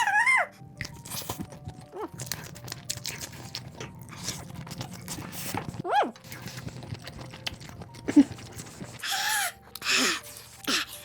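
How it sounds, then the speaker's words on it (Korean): Eating fried gimmari (seaweed rolls) with fried rice during a mukbang: close, loud crunching bites and chewing come in bursts, with some vocal sounds in between. "여러분 김말이랑 볶음밥이랑 같이 먹으면 진짜 맛있다."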